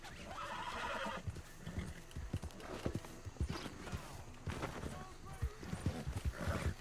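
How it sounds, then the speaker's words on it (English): Hooves clip-clop in an uneven trot alongside a horse's neigh in a video game, fairly quiet, with someone talking over the sounds. "I think I'm going to drag this person off their horse."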